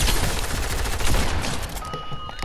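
Dense, continuous gunfire from a shooter video game, loud rapid bursts overlapping into a steady rattle with no pauses, fading slightly toward the end.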